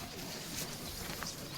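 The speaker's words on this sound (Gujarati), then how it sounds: "આપણે કેટલા બધા કબૂતર ઉપર આવ્યા છે" Pigeons gathered in a Gujarati village give soft, low cooing, faint and somewhat distant against quiet outdoor background.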